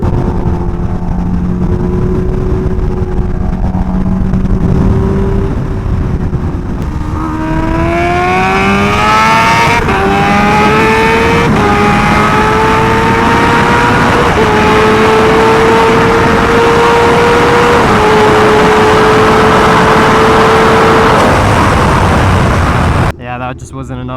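Kawasaki Ninja H2R motorcycle accelerates hard at full throttle, its engine note climbing through rising pitch sweeps and gear changes, loud and close over heavy wind rush for most of the run.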